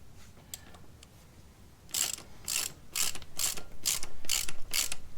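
A ratchet clicks near and loud while tightening the bolts on Aisin free-wheel hubs for an Isuzu D-max, first a few faint ticks, then about eight sharp, evenly spaced ratcheting bursts.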